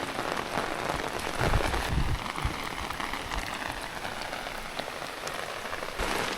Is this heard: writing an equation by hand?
no